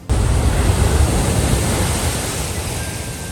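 Loud, continuous roar of Indian Ocean surf washing in at Male in the Maldives, a broad rushing wash that swells at the start and slowly eases off.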